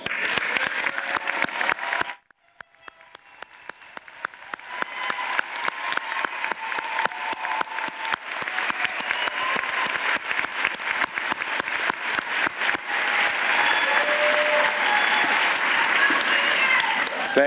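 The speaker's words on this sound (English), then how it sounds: "Could our veterans please stand for an applause?" A commencement audience at Middlesex Community College bursts into sustained applause for standing veterans, many hands clapping loudly and steadily after a brief hush, with some voices mixed in.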